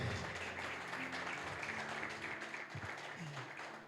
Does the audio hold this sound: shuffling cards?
no